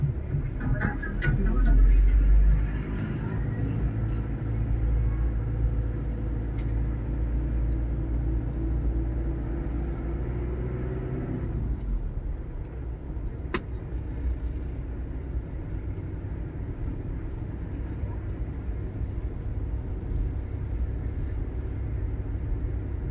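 Rush-hour road traffic beside a street with no sidewalk, heard as a continuous low engine rumble and passing-vehicle drone, louder at the start and then a steady, moderate wash of traffic noise.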